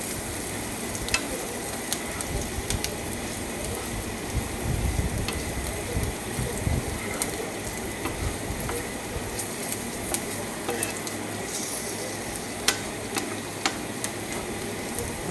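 Spice powders sautéing in a pan for Kerala puliyinchi, a soft continuous sizzle under scattered light scraping and ticking of a ladle, fairly quiet and close, with no one talking.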